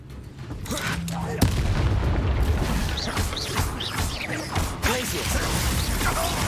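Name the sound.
Confringo fire spell blasts in video game Hogwarts Legacy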